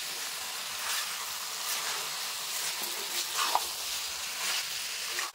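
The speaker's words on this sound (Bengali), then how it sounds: "মাংস দিয়ে এবার সুন্দর করে কষাবো" Chicken pieces fry with spices in a pan while being stirred, a moderate, continuous sizzle with soft scraping movements, fairly close and unbroken by speech.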